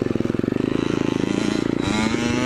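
Two-stroke Yamaha YZ80 pit bike engine buzzing steadily nearby at a rapid pulsing idle, then rising in pitch and revving harder near the end, with no talk over it.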